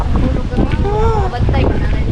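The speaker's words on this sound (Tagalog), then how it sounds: "Tingnan niyo guys, ang ganda ng hangin." Strong wind buffets the microphone with a constant low roar, while a voice briefly speaks through it.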